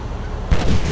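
Gunfire from the mobile shooter game Modern Combat 3 on a Poco X3 Pro, a quiet stretch broken by a loud close burst of booming shots.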